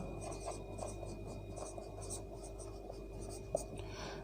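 Marker or chalk writing on a board during a Class 8 maths lesson on linear equations, giving faint repeated scratchy strokes under steady room hiss, with no talk.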